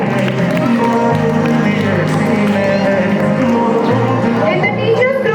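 Crowd applause and cheering for prize winners at a Republic Day school ceremony, a dense, steady wash of clapping that fills the whole stretch evenly, with music and voices blended underneath.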